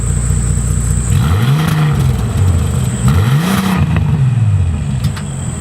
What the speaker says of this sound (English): Now, in regular mode, the exhaust sounds pretty good.